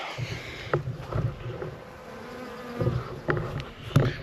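A swarm of honey bees buzzing close by, a continuous droning hum with irregular louder swells and brief bursts as individual bees pass near.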